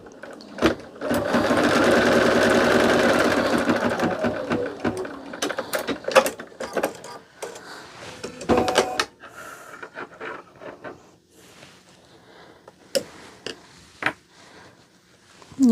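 Home embroidery machine stitching a quilt block, a loud steady mechanical whir for about four seconds, then stopping and starting in short bursts with clicks and handling noises, fading to quiet rustles.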